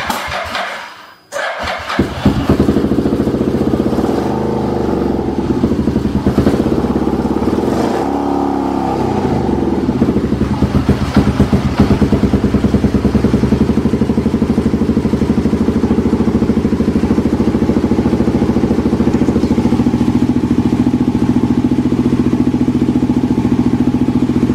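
A TR1X motorcycle, newly converted from carburettors to fuel injection, cranks briefly, fires and settles into a loud, steady idle with some revving, running continuously close by with no talking.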